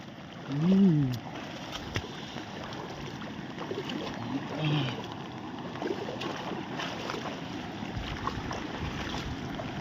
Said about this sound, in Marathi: हा कसा आवाज येतोय पाण्याचा